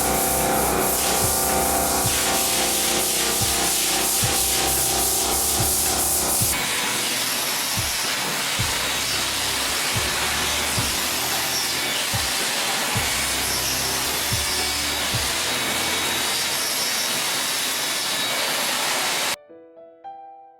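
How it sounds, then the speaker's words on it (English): A Kivac cleaning machine blasts high-pressure water through a wand in a high school restroom, a loud steady hissing spray with mechanical pulsing and knocks underneath, running continuously before cutting off abruptly near the end. "This unit uses high pressure water, wands, brushes, and vacuum attachments to clean flooring, walls, and plumbing fixtures"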